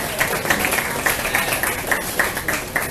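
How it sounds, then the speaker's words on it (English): Applause from a gathered crowd at a Green Drinks KL community meetup, a steady dense patter of clapping with slight swells, filling the room without pause. "So please give another round of applause to Jain."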